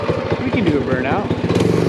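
Small engine of a rat rod mini bike revving during a burnout, a close, rough rattling engine note that rises and falls, with a voice speaking over it.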